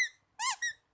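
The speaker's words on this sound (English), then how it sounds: "This one can squeak. It's a Dalmatian dog." Squeaky Dalmatian dog plush toy from an arcade prize, squeezed to give two to three high-pitched, wavering squeaks close up, with short gaps between them.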